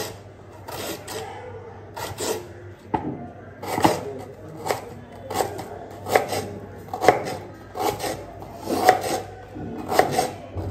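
A knife finely chops a washed onion on a board, making steady bursts of crisp, close knocks in a regular rhythm with brief pauses between them.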